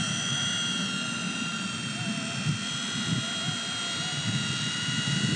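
A V911 Pro remote-control helicopter flies with a steady, high-pitched whine and a buzzing rotor drone, continuous and fairly close throughout.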